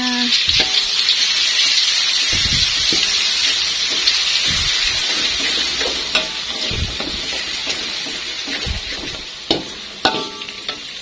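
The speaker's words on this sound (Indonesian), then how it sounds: "Setelah minyaknya panas, langsung aja kita tumis bumbunya." Spice paste stir-fried in hot oil for sayur krema, a steady loud sizzle and crackle running throughout with occasional scraping stirs and clatter of a utensil, no talking.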